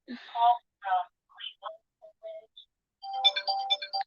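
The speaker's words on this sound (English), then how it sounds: "It was not a bad show, and that's my house phone." House phone ringing with a series of electronic melodic ring tones in short repeated bursts separated by gaps, clear and close.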